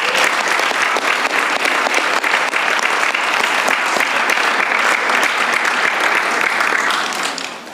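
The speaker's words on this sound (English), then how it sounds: "Let's give a big round of applause to all of them." Sustained applause from a large audience at a Sunday devotional program, dense steady clapping for several seconds before starting to thin out at the end.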